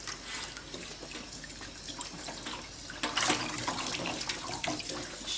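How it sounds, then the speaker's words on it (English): Warm tap water runs steadily into a sink while a dog is wetted down for a bath during grooming at an animal hospital, a continuous close splashing stream that grows louder and busier toward the end. "The water's nice and warm. We just wet her all down."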